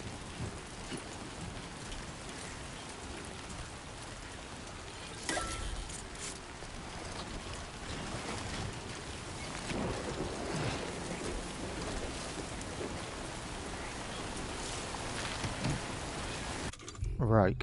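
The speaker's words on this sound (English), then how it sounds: "don't think this rain's gonna stop." Continuous downpour in the video game Death Stranding 2, a broad steady hiss with low thunder rumbles rolling in midway and again near the end, while a voice speaks faintly over it.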